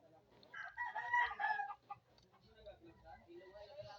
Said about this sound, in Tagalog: Ingay na paligid ko. Ang dami manok.